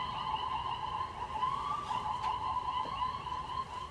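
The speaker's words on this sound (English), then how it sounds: "Now that one's a Bellwood ambulance going past an Elmhurst ambulance in Elmhurst at the intersection of York and Butterfield" A Bellwood ambulance siren wails steadily at moderate distance as it passes an Elmhurst ambulance at the York and Butterfield intersection in Elmhurst, the tone holding with slight pitch sweeps over street noise.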